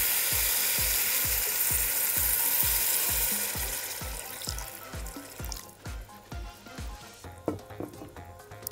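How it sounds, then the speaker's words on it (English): Water pours into a hot pot of koshary with a loud hiss that fades after a few seconds, while steady rhythmic thumps of stirring continue underneath. "We're going to add water."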